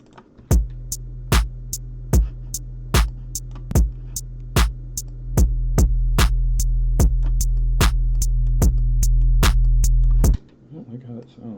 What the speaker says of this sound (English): And I'm just gonna put an OTT on it.